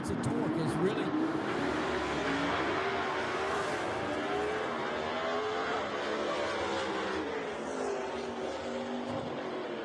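A gasser drag racing car makes a pass at Knoxville Dragway, its engine a loud, sustained roar that fills the whole stretch while a commentator talks over it.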